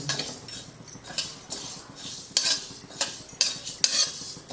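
Fennel, fenugreek and coriander seeds dry-roasting in a pan, heard as rattling, clinking stirs of a spoon against the metal with a faint crackle beneath, irregular and close.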